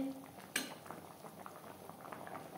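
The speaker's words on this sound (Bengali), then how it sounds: "ফুলকপির সাথে 3-4 মিনিট ডাল বেশ ভালো করে ফুটিয়ে নেব" Chana dal with cauliflower bubbles steadily in a pot, a soft continuous simmer with one sharp clink of a utensil against the pan near the start.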